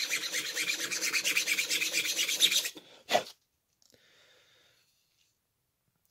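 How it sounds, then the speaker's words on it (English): Gentle sanding along the thin edges of a 3D printed Native American flute, a steady rasping rub that runs for a few seconds, then a single louder scrape before quiet. "there are some thicker parts on the very edges that must be sanded down very gently"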